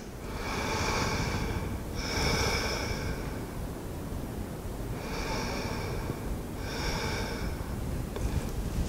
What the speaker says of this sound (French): On prend deux respirations.